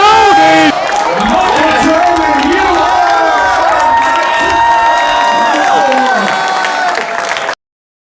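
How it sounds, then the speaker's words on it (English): A large crowd erupts in loud cheering, shouts and whoops at the final of a Microsoft Excel championship, sustained and close, with several excited voices rising over it before it cuts off abruptly. "Look at the crowd here! Exploding!"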